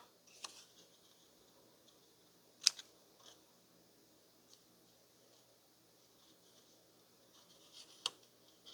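Scissors snip a fold off a paper tag for a scrappy bookmark craft, giving a few quiet, sparse cuts and small paper rustles in a hushed room.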